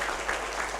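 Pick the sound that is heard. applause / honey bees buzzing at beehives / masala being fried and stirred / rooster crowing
applause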